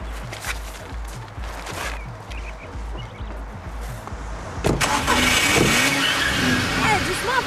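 A car engine idles in a steady low throb, then the car is suddenly driven off and accelerates hard with a loud surging roar and tyre noise, while people shout over it in alarm.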